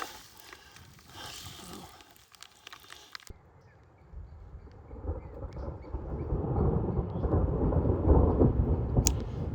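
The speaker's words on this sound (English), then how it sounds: "Thunder, but I didn't see any strikes." A deep, rolling rumble of thunder on the John Muir Trail builds and swells in the low range, lasting several seconds over a steady hiss of rain, with no voices.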